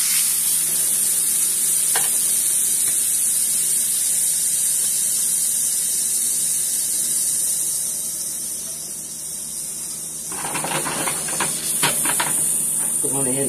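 Apricot honey glazed salmon sizzles in a pan after being flipped, a steady hiss of frying with a brief clatter near the end as the fish is moved. A voice speaks faintly over it.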